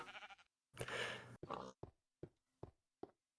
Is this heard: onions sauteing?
no